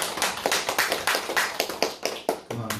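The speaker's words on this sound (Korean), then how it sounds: "박수." A church congregation at a Sunday dedication service claps in brief, uneven rounds of sharp hand claps that come in clustered bursts, fairly close and moderately loud.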